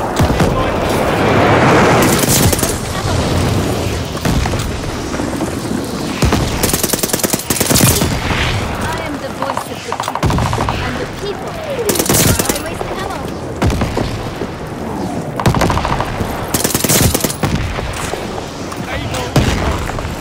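Call of Duty: Vanguard hardcore domination match with an incoming mortar strike: loud, dense bursts of gunfire and heavy booming explosions repeat throughout, with in-game voices calling out over the battle.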